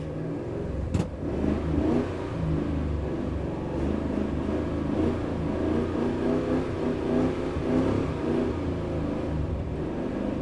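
A Nissan Skyline drifts on a frozen track, its mid-pitched engine revving and rumbling steadily and loudly throughout, with no talk over it.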